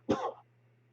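A single harsh cough, close and loud, over a faint steady hum, then quiet.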